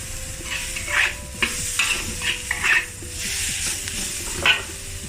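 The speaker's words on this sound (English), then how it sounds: "Return the deep fried beef to the wok." Deep-fried beef tossed back into a hot wok with cumin, giving a steady sizzle with scraping stir strokes and several sharper clanks of the spatula against the metal, close and without talk.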